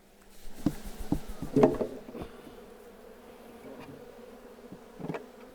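Honeybees buzz in a spring hive holding an unmated queen, a close, steady hum with occasional louder swells as individual bees pass near.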